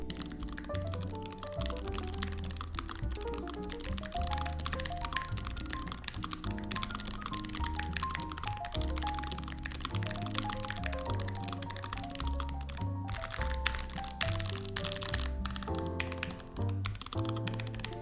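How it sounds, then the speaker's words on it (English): Typing on an ASUS ROG keyboard with optical switches: a continuous stream of close, crisp keystrokes that sit under steady background music. "Here, just listen to the keyboard."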